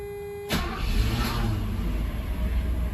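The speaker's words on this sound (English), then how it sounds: "let's see how we do on a cold start with proper idle air" A car on a chilly morning of about 39°F cold-starts with a new Bosch CIS idle air controller fitted: a brief crank catches after half a second, then the engine settles into a steady, fairly loud idle with no throttle blips.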